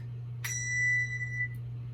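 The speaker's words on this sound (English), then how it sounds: "To play the highest one, you will do a knock." A single handbell, struck with a knock to sound its highest note, gives one clear ringing tone that decays over about a second over a steady low hum.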